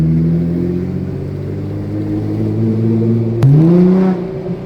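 Car engine revving steadily with a rising transmission whine, loud and close, then a sharp shift and renewed surge near the end, with no talking over it.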